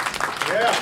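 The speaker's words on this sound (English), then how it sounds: "Round of applause for Marianne." A live comedy show audience gives a short burst of clapping, mixed with a voice speaking over it.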